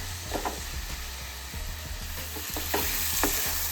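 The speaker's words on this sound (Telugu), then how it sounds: "ఇప్పుడు ఇందులో మనం కట్ చేసి పెట్టుకున్న టమోటా ముక్కల్ని కూడా వేసుకొని బాగా ఫ్రై చేసుకోండి." Tomato pieces frying with thin-sliced onions in a pan, a steady close sizzle under repeated soft scrapes and stirring knocks from a utensil.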